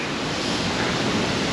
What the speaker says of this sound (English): It is absolutely deafening to get that close to the waterfall.